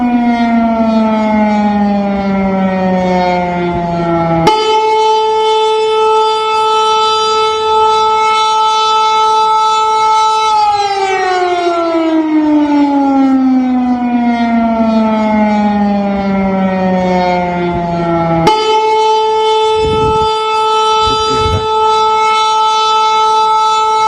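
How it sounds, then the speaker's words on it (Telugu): Civil defense sirens wail across Russia, loud and continuous, their tones sliding down, holding, then restarting in long rising and falling cycles with strong overtones. "ఆ సందర్భంలో సైరన్స్ ఏ స్థాయిలో మోగుతున్నాయో ఒకసారి చూద్దాం."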